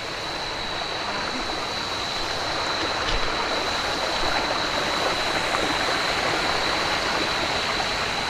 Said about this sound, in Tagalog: Maingay yung tubig.